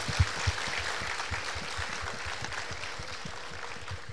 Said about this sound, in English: Don't you think they deserve another huge round of applause?